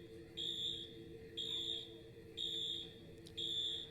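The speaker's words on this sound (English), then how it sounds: "A high-pitched, repetitive beeping, and all of our pretend calls dropped" A store alarm sounds a high-pitched, repetitive beep: four steady tones of equal length with short gaps between them, loud and clear over a low background hum.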